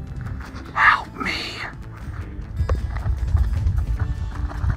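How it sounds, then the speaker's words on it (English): A cow chased along a dirt road toward Walker Pass, hooves clopping in an uneven run close by, with a loud snort or bellow early on and scuffing steps continuing throughout. "Just got chased by this cow up here"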